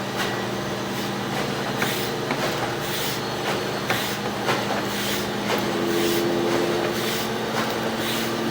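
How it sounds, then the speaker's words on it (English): A washing machine churns steadily nearby with a constant hum and rhythmic thumping, no voices present. "we do have the washing machine running"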